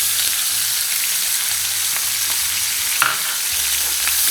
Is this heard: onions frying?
yes